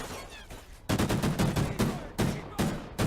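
Rapid, loud gunfire bursts from a Call of Duty: Ghosts 4v4 tournament match, several sharp volleys in quick succession over a few seconds, close and punchy.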